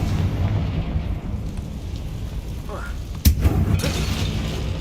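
A sudden, loud booming blast from the Confringo spell striking a bridge in the Hogwarts Legacy video game, preceded by low rumbling game ambience and followed by a crackling tail.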